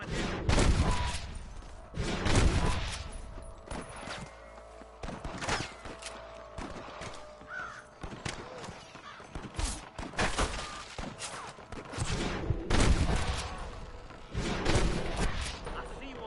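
Gunfire in the Western video game Red Dead Redemption, repeated sharp rifle and pistol shots in irregular bursts, some near and loud, others more distant, with game character voices talking between them.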